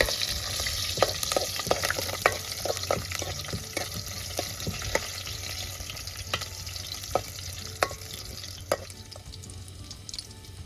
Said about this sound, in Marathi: पहिला तेल वतून घेतलंय त्याला लसूण आणि मिरच्या टाकली परत घोटाळणार